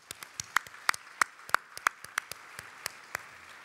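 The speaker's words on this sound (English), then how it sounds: "Please give them a well-deserved round of applause." Scattered clapping from a tribute dinner audience applauding sponsors, individual sharp claps standing out in an uneven rhythm rather than a full roaring ovation, fairly close and without talk.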